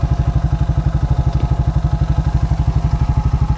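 A 2001 Suzuki Quadrunner 250 4x4 ATV engine idles close by with a steady, rapid, even thumping rhythm and a low throaty tone, with no talking over it.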